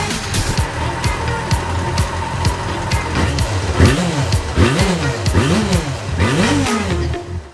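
A Yamaha Fazer FZ6 motorcycle fitted with loud aftermarket stainless exhaust pipes revs repeatedly, close and loud, the engine note swooping up and down in quick throttle blips.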